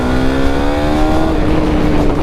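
A KTM Duke 390 motorcycle accelerates hard in second gear from about 6,000 RPM, a loud close engine note climbing steadily in pitch with no talking.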